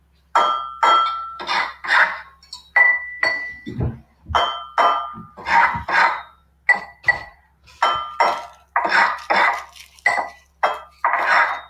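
A sound pattern is played out by hand: a strip of sandpaper is scratched, and a mug and a glass are tapped. Bright ringing clinks and short rough scrapes alternate in a repeating rhythm, with brief pauses between groups and no talking.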